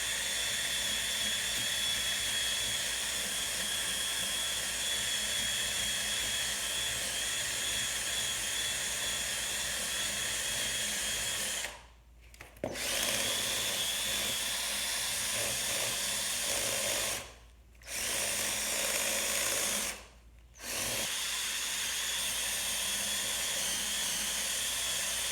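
A drill spinning a brush against car rims and wheels, a steady high-pitched whine that runs continuously and cuts out briefly three times before spinning back up, with no talking.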